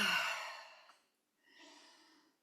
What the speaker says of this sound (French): Ouh, ça baille, c'est très bien.